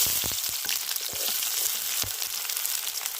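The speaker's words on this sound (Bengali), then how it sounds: "এবার কড়াই আবার একটু তেল দিয়ে দিয়েছি এবার এর মধ্যে দিয়ে দেবো পেঁয়াজ কুচিগুলো" Chopped onions frying in oil in a wok, a loud, bright crackling sizzle heard up close, with a few quick knocks and scrapes from stirring scattered through the short stretch.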